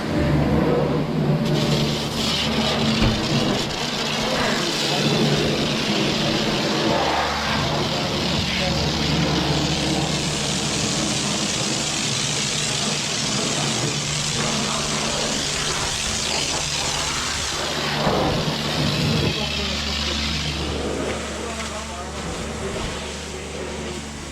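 A Massey Ferguson 255 Turbo tractor engine revs with a steady loud diesel rumble that rises in pitch partway through, close by, while someone talks over it.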